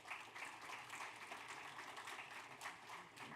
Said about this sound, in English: Please give him a loud round of applause.